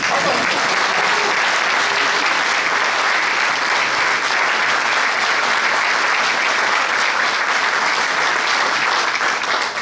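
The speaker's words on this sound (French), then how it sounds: "arriver dans une salle avec les applaudissements." Steady, dense applause from a large crowd fills a political rally hall, loud and continuous throughout with no pauses.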